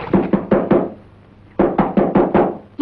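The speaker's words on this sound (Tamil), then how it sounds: "யாரையா தோட்டத்துக்கு கதவை தட்டுறது?" Someone knocks on a garden door in two bursts, four sharp raps, a pause of about a second, then five more raps, close and clear with no voices.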